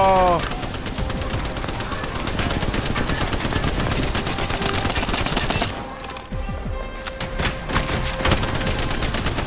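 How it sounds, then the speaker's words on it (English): Rapid automatic gunfire from an Apex Legends match, dense bursts of shots running almost continuously with a brief lull near the middle before more scattered shots; a voice talks faintly underneath. "How many times did you shoot him?"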